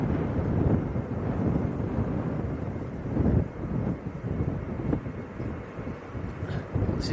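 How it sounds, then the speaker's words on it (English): Jet 2 airliner engines at Leeds Bradford airport spooling up before the takeoff roll, a broad low rumble mixed with wind buffeting the microphone, steady and moderately loud throughout with no talk. "next departure just about to roll. I can hear the engines revving up."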